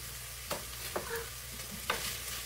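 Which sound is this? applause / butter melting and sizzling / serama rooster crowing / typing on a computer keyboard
butter melting and sizzling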